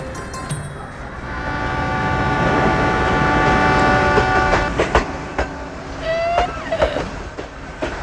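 A train rumbles by close and loud, with rhythmic wheel clatter and squealing metallic tones.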